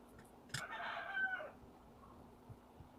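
A rooster crows once at a distance, faint and brief, with a few soft knocks nearby in an otherwise quiet indoor space.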